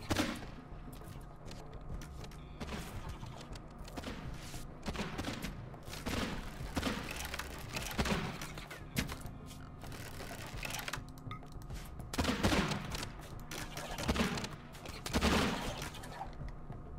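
A sustained gunfire barrage in the Rimworld colony game rattles on continuously and fairly quietly, a dense stream of overlapping shots with occasional louder surges.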